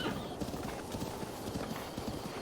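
Horse hooves clip-clopping in The Legend of Zelda: Breath of the Wild, a steady rapid trotting patter of hoofbeats at moderate volume over ambient game sound.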